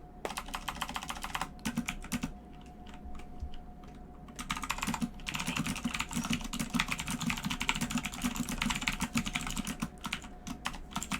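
Steady typing on a computer keyboard during a poker show, with continuous rapid key clicks close by, a short pause midway, then more typing.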